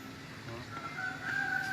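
A chicken calls out briefly nearby, a short rising crow over faint background noise.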